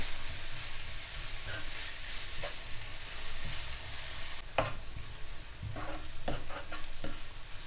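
Chopped vegetables for Sri Lankan vegetable rolls sauté in a pan with a steady close sizzle, while a spatula scrapes and stirs in irregular knocks and clatters through the second half.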